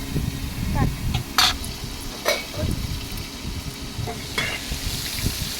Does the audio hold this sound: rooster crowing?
no